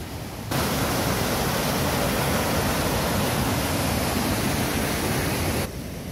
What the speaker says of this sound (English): Over there in that is the overflow for the bywash.